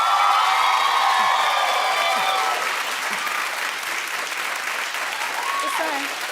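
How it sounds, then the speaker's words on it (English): Studio audience applause rises loud and broad, then eases into a steady patter with a few whoops and cheers, while a voice briefly carries over the clapping. "Clap if you think Beyonce's the greatest performer of all time"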